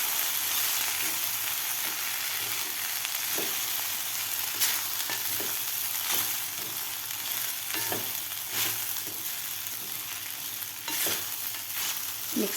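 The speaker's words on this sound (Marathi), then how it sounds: "व्यवस्थित आपल्याला साबुदाणा मिक्स करायचा आहे खालच्या भाज्यामध्ये।" Soaked sago pearls are stirred into vegetables in a hot pan for a breakfast upma, giving a steady close sizzle and frying hiss with repeated scraping stir strokes throughout.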